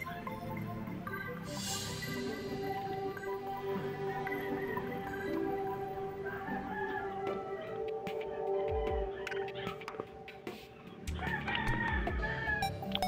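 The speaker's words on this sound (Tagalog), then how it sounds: "Ingay ng manok dito" Minecraft chickens cluck and a rooster crows amid a busy mix of digital game sounds, steady and moderately loud, with brief thuds and clatter toward the end.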